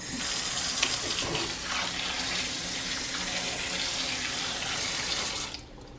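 Tap water running steadily into a bowl of potatoes, a loud continuous gush that stops abruptly near the end, with no talking.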